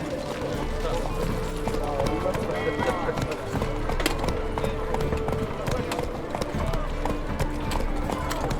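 Continuous close gallop of Roach, the horse in The Witcher 3: Wild Hunt, with hoofbeats running under a layer of background voices and ambient game sound.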